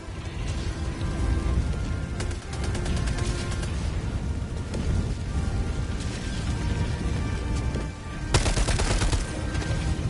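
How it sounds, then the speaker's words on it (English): Sustained minigun fire against bugs in the Helldivers 2 video game, a loud continuous roaring stream of rapid shots with brief pauses and sharp bursts of renewed fire. "killing these dudes with a minigun is a lot harder"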